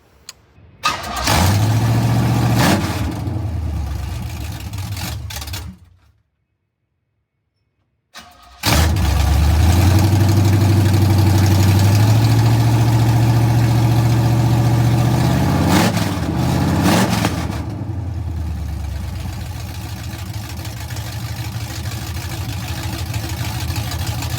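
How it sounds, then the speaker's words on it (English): A 1969 Chevy Camaro V8 with long-tube headers cranks and fires up, runs loud and lumpy through open headers, cuts off, then restarts and idles with occasional revs, close by. "I'll give you guys a little startup video, obviously, with the open headers"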